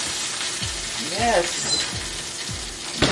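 Oven-baked snapper comes out of the oven with a soft, steady sizzle, broken by several metallic clanks from the pan and oven rack, while a voice briefly speaks close by.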